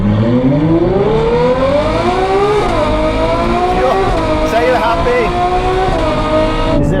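Ferrari 812 N V12 engine, over 800 hp, revving hard and loud with rising, falling pitch sweeps as it climbs through the rev range, continuous and close for the full stretch.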